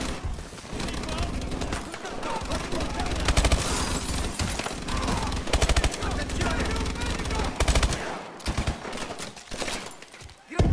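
Turret gunfire rattles in Call of Duty: Advanced Warfare in long, dense, sustained bursts with booming impacts and broken by brief gaps, as distant battle noise continues around it.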